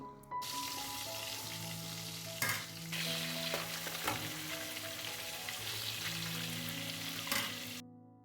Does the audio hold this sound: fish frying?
yes